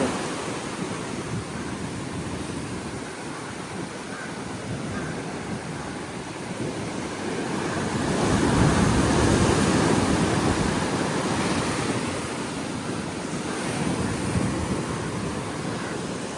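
Sea waves wash onto a Goa beach as a broad, even roar that swells louder about halfway through and then eases back, with no voices.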